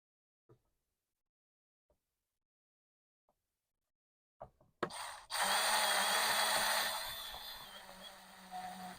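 A power driver runs a screw into an electrical box mounted in a soffit: a few faint taps, then a loud, steady whirring burst from about the halfway point that eases slightly near the end.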